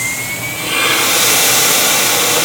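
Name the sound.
turbocompressor air fan starting and running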